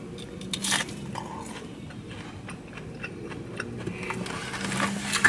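Crisp bites and chewing on fried fish and chips, a few close crunchy crackles followed by soft mouth sounds, quiet and intimate with no talking.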